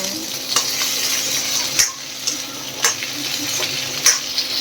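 Ingredients for mango chutney roasting in a pan without spices yet, giving a steady close sizzle broken by several sharp scraping stirs at irregular intervals, with no voices.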